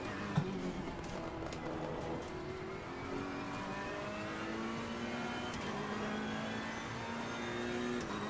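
Race car engines in the Assetto Corsa Competizione racing game drone steadily with rising and falling revs, gear-shift pitch sweeps and other cars whirring past, continuous and fairly loud throughout.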